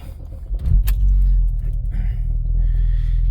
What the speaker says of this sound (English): I can start this car again just so you can see.